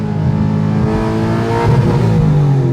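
A car on semi-slick tires spins its wheels during a 40 roll, the engine droning steadily at mid pitch and swelling louder toward the end, close and continuous.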